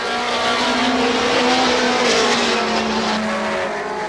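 Pinto and Wagon class race cars at Star Speedway in 1991 roar past in a loud, continuous engine drone with a steady pitch and faint tire noise underneath.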